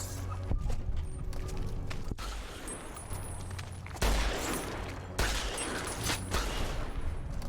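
Gunshots fired at rats in the video game Fallout New Vegas, a few sharp reports spaced seconds apart over a low ambient background, fairly faint.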